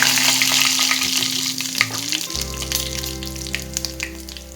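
Spices and fennel seeds sizzle in hot oil in a pan, a bright crackling hiss close by, broken by a few sharp spoon scrapes and clinks as they are stirred.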